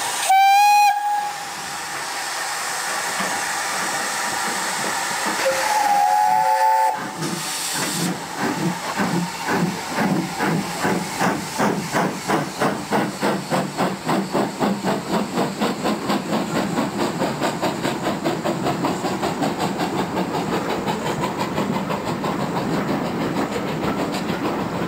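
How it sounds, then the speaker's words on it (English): A steam whistle blows, then a double-headed steam passenger train hauled by two S&D 7F locomotives chuffs past loudly with rapid, rhythmic exhaust beats that blur together as it gathers speed, hissing throughout. "There was also a double-headed passenger train."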